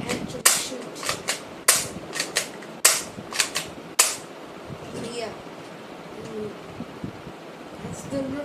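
A Nerf Game 3.0 toy blaster fires in a handful of sharp, snappy clicks spaced over a few seconds, followed by quieter handling noise and faint background sounds.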